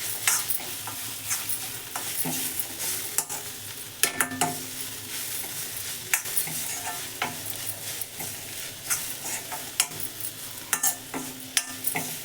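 Carrot fry with coriander powder and chili powder sizzling in a pan, steady frying hiss broken by repeated scraping and tapping of a spoon as it's mixed, close and fairly loud, no speech.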